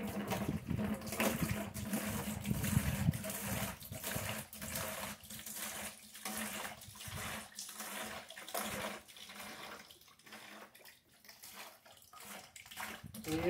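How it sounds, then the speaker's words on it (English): Two quarts of hydrogen peroxide pour steadily into a container, a continuous splashing, gurgling stream heard fairly close and alone for over ten seconds. "So I'm going to go ahead and put 2 quarts of peroxide in there."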